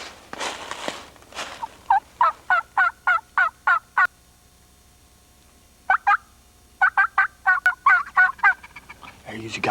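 A wild turkey on a wooded ridge calls in two clear runs of rapid, evenly spaced notes, distinct against quiet surroundings, with a short voice at the start.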